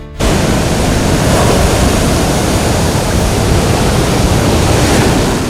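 Rough monsoon sea pounds the eroding shoreline at Uduma in Kasaragod, a loud, continuous roar of breaking surf that starts suddenly and holds at full strength for over five seconds, with no voices.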